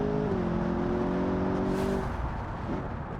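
A custom luxury grand tourer built in Automation roars through hot laps in BeamNG.drive, a steady harmonic engine drone at high revs that drops away near the end as the car comes off the throttle.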